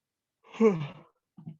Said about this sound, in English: I'm yawning during a workout.